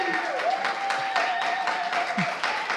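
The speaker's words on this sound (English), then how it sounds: "Go ahead and clap." A small live audience at a coffee shop broadcast claps in an uneven patter, moderately loud, with a steady tone ringing faintly underneath.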